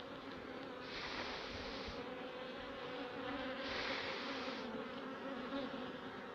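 Honey bees buzz in a dense, continuous drone around a hive frame from a divided swarm in Val de Dagne, swelling louder in two waves as the swarm shifts.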